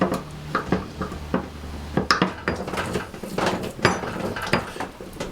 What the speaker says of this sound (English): or pestle and mortar it in